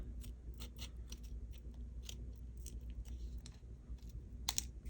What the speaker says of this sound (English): trim it off a little bit there and a little bit over here